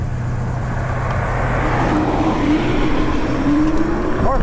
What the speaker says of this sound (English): More cars coming.